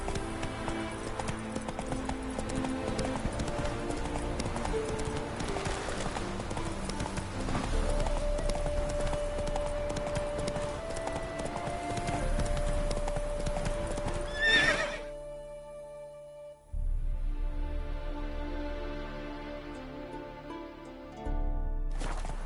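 A horse named Roach trots, its hooves clip-clopping in a steady rhythm, with an occasional whinny and a music bed. Partway through, the sound drops out briefly and then comes back more quietly.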